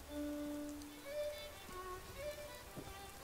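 Rain in the Fallout 4 video game as night falls, a soft steady patter of drops on surfaces, faint and continuous, with a few brief tonal game sounds drifting over it.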